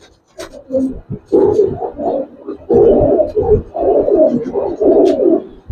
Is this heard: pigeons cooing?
yes